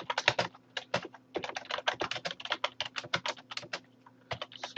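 Rapid keystrokes on a computer keyboard while ad body text is typed, a close, steady stream of clicks with short pauses between bursts.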